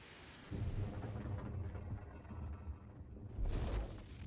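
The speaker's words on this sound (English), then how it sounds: "Let's shoot lightning at it." In Star Wars: The Old Republic, a Sith Inquisitor fires Force lightning at an ancient monument: a sustained crackling, rumbling roar like thunder, loud and continuous, surging again near the end, with no talking.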